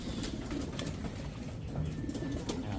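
Racing pigeons coo softly and repeatedly inside a loft, a low continuous burbling with a few faint wing flutters, no voices.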